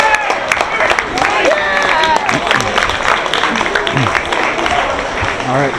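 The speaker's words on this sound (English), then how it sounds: "that applause is a little weak" An audience claps at a motivational talk, a moderate wash of hand claps mixed with cheering and voices calling out over it.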